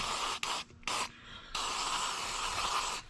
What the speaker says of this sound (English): Just spray this thing down.